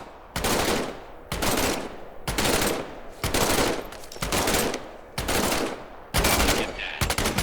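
Loud, close bursts of M1 rifle gunfire in Medal of Honor: Above and Beyond, about seven sharp broadband shots at an uneven rhythm, each ringing out with a short decay before the next.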